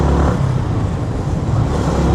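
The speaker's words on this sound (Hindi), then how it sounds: "देख रहे हो कितना ट्रैफिक लगा हुआ है यहाँ पर" Heavy road traffic with large vehicles in an Indian city makes a loud, continuous rumble of engines and tires close by, without speech.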